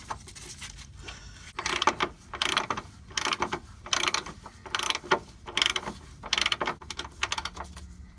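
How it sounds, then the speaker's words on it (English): A ratchet tightens a nut while an oxygen sensor is replaced on a 1999 Chevy Suburban 1500, making a rhythmic series of clicking strokes, close and moderately loud, repeated about every half second. "And now I'm putting the nut on the other side."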